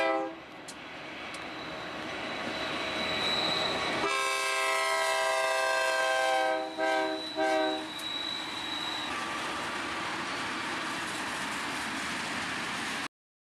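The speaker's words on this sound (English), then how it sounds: "I love a nice big freight train." A BNSF freight train passes close by, its horn blaring in a long chord with brief breaks, over a steady rumble and rail noise that continues after the horn stops.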